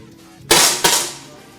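Two sharp shots ring out in quick succession at a team shooting competition final, each a crisp close crack with a short decaying tail, in an otherwise quiet space.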